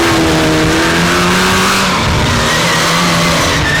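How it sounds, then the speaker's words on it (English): A Mini rally car running as the sweeper car through a stage of the Ravens Rock Rally in Carrick-on-Suir, its engine droning loudly and steadily with revving throughout, no voices over it. "the sweepers car is just going through"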